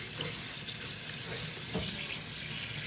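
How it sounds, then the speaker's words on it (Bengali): Gobindobhog rice is rinsed for pulao under running water, giving a continuous broadband rush of water with faint swishing of grains and no speech. "এটা হচ্ছে গোবিন্দভোগ চাল, এটা আমি পোলাওয়ের জন্য ধুচ্ছি"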